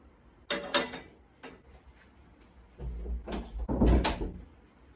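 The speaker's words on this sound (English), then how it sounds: "Close the door" A kitchen door swings shut with a couple of soft bumps and a louder low thud near the end, close by and without speech.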